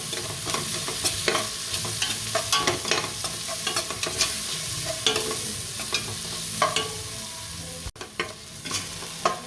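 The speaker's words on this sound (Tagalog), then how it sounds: "Isahin din natin yung tomato paste." Tomato paste sautés in a pan for beef kalderetang baka, a steady loud sizzle with frequent scraping stirs and clinks of the utensil, close up and without talking.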